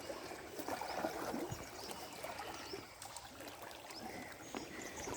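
Water flowing along a village canal, a faint steady rush and trickle heard outdoors at a distance, with light rustling and no talking.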